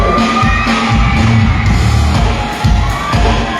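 A concert crowd at an anniversary concert in Sta. Cruz, Occidental Mindoro shouts and cheers continuously, a dense, loud wash of many voices yelling and whooping close by with no break.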